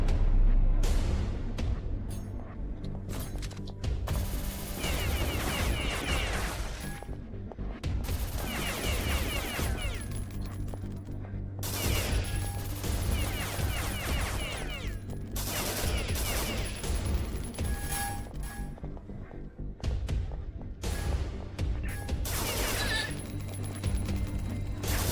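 Rapid bursts of turret gunfire and fusillades rattle through a first-person shooter level in The Citadel, with repeated volleys, crashes and booms filling the whole stretch, loud and dense with only brief lulls.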